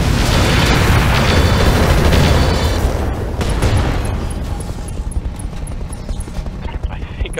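Weapons fire and explosions pound a VTOL in the mech strategy game Roguetech/Battletech, a heavy, loud barrage of booms and rattling impacts for a few seconds that then thins into scattered thuds and pops.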